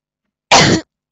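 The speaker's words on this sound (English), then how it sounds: "every time I want to cough, I can't get it out" A single short, harsh cough or throat-clear, close and loud, lasting about a third of a second with silence around it.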